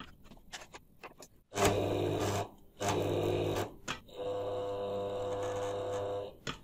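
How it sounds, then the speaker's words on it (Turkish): Sewing machine with a faulty motor that groans when run, giving several loud bursts of strained motor hum with short pauses between, close up and with no talking. "Makine çalıştığında motor inliyor."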